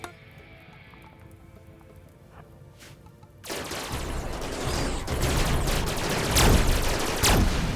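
Guns firing at insects in the video game RimWorld: after a quiet stretch, dense rapid gunfire breaks out and continues as a steady loud barrage with sharp cracks.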